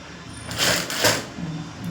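A sewing machine stitches folded fabric in short bursts, two louder runs of rapid mechanical clatter, close and fairly quiet, with no voices.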